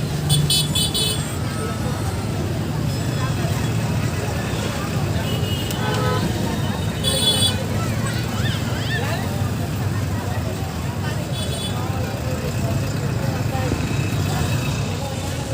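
Large 308-wheel truck rolling through the Anjan Dham toll plaza between Gumla and Ranchi: a constant low engine rumble amid crowd chatter and scattered horn toots, with people talking nearby throughout.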